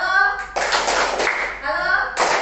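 Seated audience of adults clapping on cue during a training session: short bursts of group clapping alternate with a voice calling out a greeting, each burst lasting about a second.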